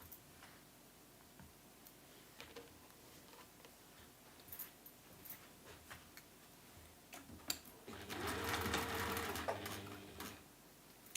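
Sewing machine stitching a Tilda snowman quilt block, with scattered small taps and handling ticks at first, then a steady whirring run of stitching near the end, close and quiet.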